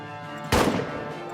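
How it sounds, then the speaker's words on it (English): A single loud cannon blast booms out suddenly in the trench-warfare video game All Quiet in the Trenches, with a sharp onset and a rumbling decay over steady low background noise. "The thunder of cannons comes from our side"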